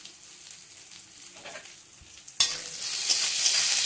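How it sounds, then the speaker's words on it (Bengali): Onions fry in a pan for a mixed vegetable curry, making a close, steady sizzle with stirring scrapes that swells suddenly louder partway through and stays strong to the end. "একটু পেঁয়াজটাকে ভালো করে লাল করে ভেজে নেবো"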